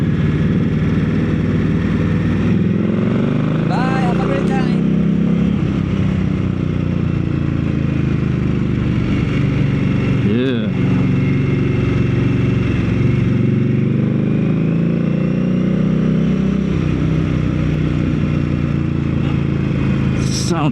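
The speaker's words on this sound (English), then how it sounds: "I'm just enjoying the sound of the exhaust as well." An Indian Scout Rogue motorcycle fitted with a Jekyll and Hyde exhaust rumbles loudly and continuously while riding through traffic, its twin-cylinder note rising and falling with throttle changes and occasional revs.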